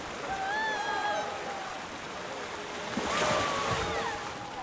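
A crowded wave pool at a mythology-themed water park in Planet Coaster 2 gives a steady washing surge of water, swelling slightly, with faint distant crowd cries and whistling tones mixed in.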